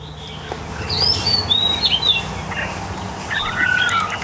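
Chinese hwamei songbird singing in short, high chirping phrases over a steady background hum, the calls moderately close and intermittent with no talk.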